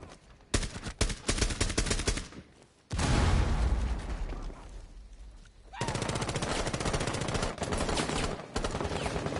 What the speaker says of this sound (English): Somebody's shooting at us from the right.